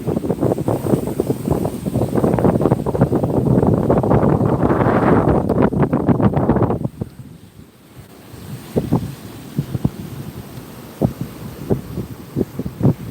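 Wind buffets a smartphone microphone on a beach at Ban Chang, Rayong, loud rumbling gusts for about seven seconds before easing into quieter broken bursts of wind and faint surf.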